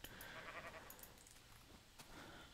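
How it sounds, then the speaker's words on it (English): Sheep bleating repeatedly in Minecraft, several short nasal bleats overlapping at irregular intervals, fairly close and alone without talk. "as you can probably tell by the incessant bawling, we are still at the farmer's house, or the sheep herder's house"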